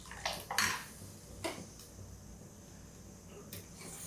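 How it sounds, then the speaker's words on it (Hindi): A spoon clinking and scraping against a cooking pot while besan kadhi made with buttermilk is stirred over the heat, a few sharp metallic taps standing out over a quiet background. "ये अब इसको जब तक उबाल नहीं आता तब तक मैं इसको चलाती रहूँगी।"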